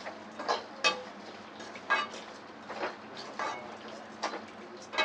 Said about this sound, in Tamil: இப்போ இதை நல்லா கலரி விட்டுடலாம்.